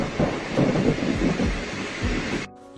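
Thunder rumbles heavily during rain, a loud rolling growl in uneven surges over steady rainfall that cuts off abruptly.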